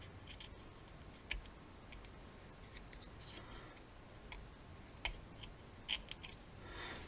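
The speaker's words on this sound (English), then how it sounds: "Just angle your scissors." Scissors snipping excess paper from model rocket fins, a quiet run of faint scratchy cuts with a few sharper isolated snips spaced irregularly across a hushed room.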